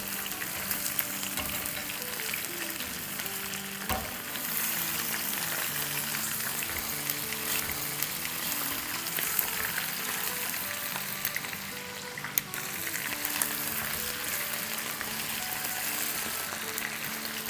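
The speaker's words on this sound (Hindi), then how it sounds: "हम फ्राई करेंगे प्याज़ों के साथ, इन पीसेस को।" Chicken pieces frying with onions for chicken tikka masala, a loud continuous sizzle and crackle with a brief stir or clatter near the middle and another sharp click later, no speech.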